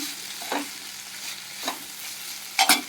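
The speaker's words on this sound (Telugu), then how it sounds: "బాగా ఫ్రై అయిపోయినాయండి ఇది ఆయిల్ సెపరేట్ అవుతుంది చూసారా" Broad beans (borbati) frying in oil, a steady soft sizzle broken by about three louder scraping stirs of the spoon across the pan, close by with no voices.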